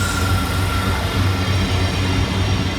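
Southeastern Class 707 electric trains 707-002 and 707-013 run past on a City Beam service, a loud steady rumble of wheels on track with rhythmic clatter over rail joints and a faint high whine.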